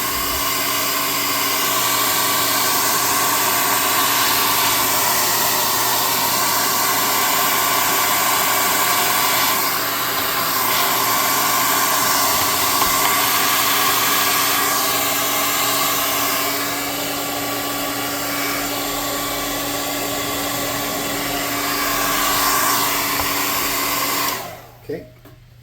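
Hot air gun blowing steadily for nearly the whole stretch while drying craft paint on tabletop palisade terrain, a loud continuous whoosh that cuts off abruptly at the end.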